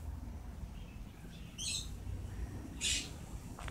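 A pet bird gives two short, bright squawking chirps a little over a second apart, fairly close, over a quiet room hum with no talk.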